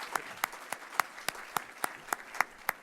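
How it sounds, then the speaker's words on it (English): An audience at an Ohio State University address by President Michael V. Drake claps for Columbus in a sparse, evenly spaced beat of about ten crisp claps, close and distinct rather than a full roar. "I want to have a round of applause for Columbus"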